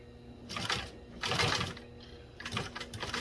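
Commercial automotive upholstery sewing machine stitching carpet binding, a few short mechanical bursts of rapid stitching separated by pauses, close and fairly loud.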